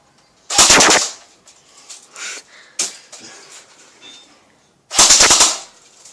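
Two loud rapid bursts of airsoft gunfire from a BW15 in burst mode, close by, separated by a few seconds of quieter rustling and small clicks.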